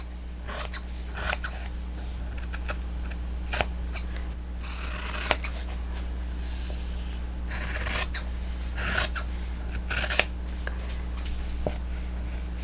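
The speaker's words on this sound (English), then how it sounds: "So I'm going to cut this off right along this edge right here." Scissors snipping through fabric while making a bag, a series of crisp, close cuts spaced irregularly over a low steady hum, with no talking.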